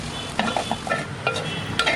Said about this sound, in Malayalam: നമ്മുടെ ഇഞ്ചിയൊക്കെ നന്നായിട്ട് വറുത്ത് വന്നിട്ടുണ്ട്